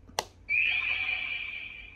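Bandai CSM Typhoon toy transformation belt switched to Rider 1 mode gives a short click, then a sustained high electronic tone that holds steadily and fades slightly over about a second and a half, with no talking.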